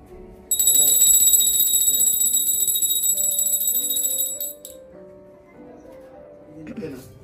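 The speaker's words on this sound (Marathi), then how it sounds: "घंटी येते" A bright metallic temple bell rings continuously for several seconds, then fades out, with faint voices murmuring underneath.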